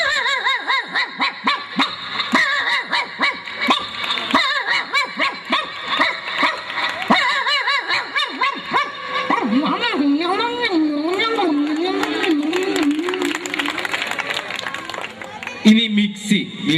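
A comedian on a Malayalam comedy stage show imitates a country stray dog barking, voicing a string of yelps and howling whines, with the audience snickering and laughing along.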